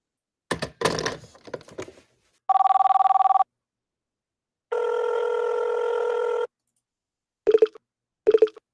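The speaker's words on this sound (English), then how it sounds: "let's do a quick speed dial. Do I have that here? Telephone dial." Several bursts of a telephone dial sound effect, a rotary-style dialing run followed by steady electronic tones and two short clicks, each separated by silence with no talk.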